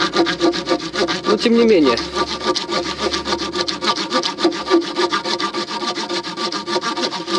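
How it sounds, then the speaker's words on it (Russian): A Victorinox RangerGrip 130mm folding saw blade cuts through a log with steady, close, rasping back-and-forth strokes in an even rhythm, while someone speaks briefly over the sawing. "Одно удовольствие после тренировки пилить."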